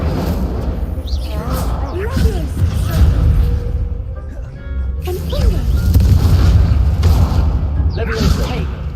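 A fire spell in a Hogwarts video game bursts with whooshing blasts and low booms amid busy game effects, two main surges of roaring impact separated by a brief quieter gap.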